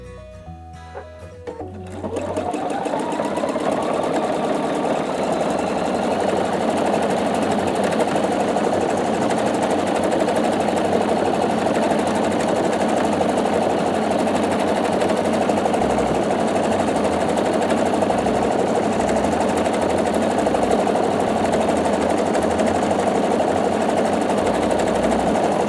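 Pfaff Quilt Expression 720 sewing machine starts up after a brief pause and then stitches continuously at a fast, even rhythm, a loud, steady mechanical hum with rapid needle clatter throughout.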